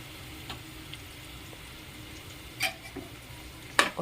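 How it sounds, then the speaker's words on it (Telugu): Biryani ingredients in a sizzling pot give a low, steady fry under the stirring. A utensil scrapes and clanks against the pot in a few sharp bursts near the end. "చూడండి, వేసి దీన్ని ఒకసారి బాగా మిక్స్ చేసుకుందామండి."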